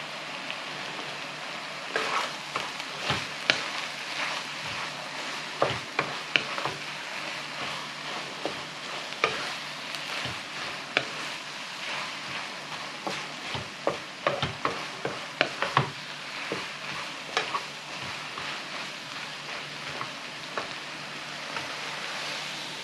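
Vegetable stir-fry sizzling steadily in a hot pan while being stirred, with a continuous crackle broken by frequent scraping and clattering strokes of the utensil, close and without talk.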